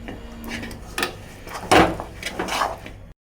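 Peanut candy being stirred in a pan, a run of scraping and knocking strokes of a spoon against the pan, fairly close, with one louder scrape midway and no talking.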